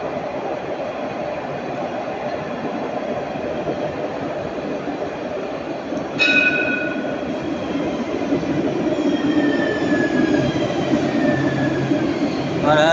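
A line 2 tram pulls into the Jean Médecin stop in Nice with a steady rolling rumble. A brief bright wheel squeal comes midway, then fainter squeals follow as it slows.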